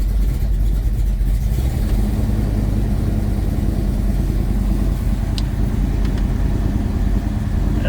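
A 1970 Plymouth Duster engine, suffering low oil pressure, runs steadily at raised revs around 3,000 RPM, a loud continuous mid-low drone close by with no talk.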